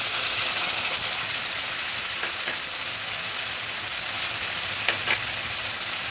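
Coriander leaf paste hitting frying spices in a pan for a Bengali katla fish curry, a loud continuous sizzle with a few faint scraping stirs.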